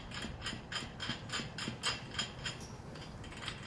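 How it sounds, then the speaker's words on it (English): An open-end wrench turns a bolt on a Lexus GX460 roof basket, making a quiet run of rapid, evenly spaced metallic clicks close up. "You're going to have to use an open-end wrench to do this."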